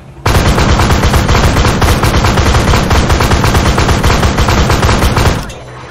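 A loud, continuous machine gun burst rattles for about five seconds in a video game mission, rapid evenly spaced shots hammering close by before cutting off abruptly.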